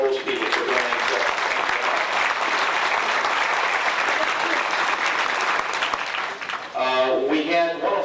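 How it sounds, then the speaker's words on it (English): Sustained round of applause from a banquet audience at a racing fan club event, loud and dense for most of the clip before tapering off near the end as voices and other sounds emerge. "We have a nice round of applause for all those people for doing that."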